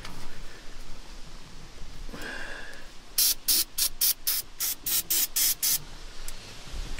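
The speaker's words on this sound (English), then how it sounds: "just spraying this fogging oil down in there." Fogging oil sprayed into the air intake of a running motor: one longer hiss, then about ten short, sharp spray bursts in quick rhythm over a low engine rumble, all close and loud.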